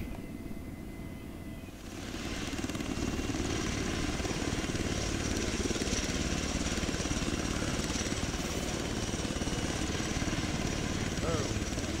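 Helicopter engine in the Arma 3 video game, a steady loud rotor and turbine drone that swells in after the first two seconds and holds constant, with talk faintly underneath.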